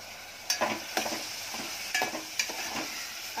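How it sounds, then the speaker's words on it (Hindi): Onion and green chillies sautéing in a couple of spoons of oil, a steady close sizzle broken by several sharp spoon-stirring scrapes at regular intervals, with no talking. "मैंने 3-4 मिनट प्याज को बघार दी"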